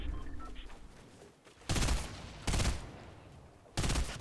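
FAMAS rifle gunfire in Fortnite, three loud bursts of rapid fire spaced about a second apart after a quieter stretch of game sounds.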